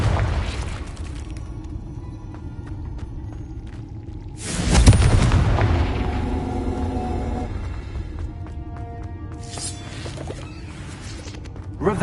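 A Confringo blasting spell explodes in Hogwarts Legacy, one sudden loud boom midway with a rumbling tail fading over several seconds amid game ambience and a later burst of effects.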